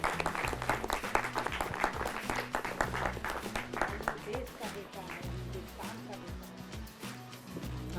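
An audience breaks into loud, sustained applause at a live televised stunt performance in Jammu, dense clapping that continues throughout with some voices underneath.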